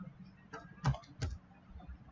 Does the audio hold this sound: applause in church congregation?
no